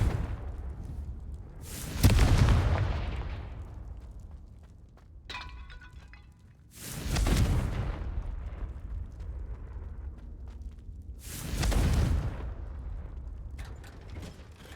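Confringo fire-blast spell in Hogwarts Legacy: three loud, booming explosions spaced several seconds apart, each bursting sharply then rumbling away, with a brief crackling clatter in between and no talking.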